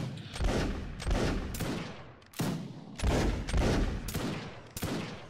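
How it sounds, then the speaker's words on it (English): A regiment's volley fire and Gatling gun shots in a video game, heard as sharp repeated blasts in irregular bursts of roughly one-second spacing, each with a decaying roar, loud and close with no voices. "Regiment, prepare to fire in Gatling gun."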